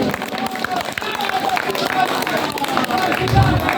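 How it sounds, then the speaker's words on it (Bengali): An audience claps at an honour ceremony for state minister Umesh Rai in Howrah, a dense, continuous patter of many hands mixed with crowd murmur and a voice over a sound system. "তার জন্য একটি জোরে করতালি হয়ে যাক সকলকে বলি"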